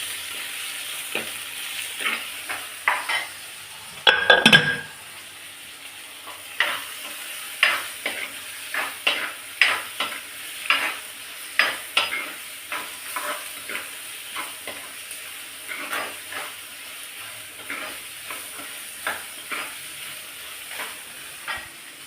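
Green chilies and other ingredients with rock salt being sautéed in oil in a pan for bitter gourd kulambu, with a soft steady sizzle and repeated scraping stir strokes at a close, moderate level, plus one louder clatter early on.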